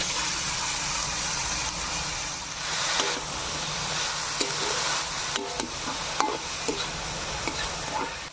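Boiled banana flower frying in spiced oil with a little sugar in a pan, a steady sizzle with occasional stirring scrapes and knocks, close and alone without talk.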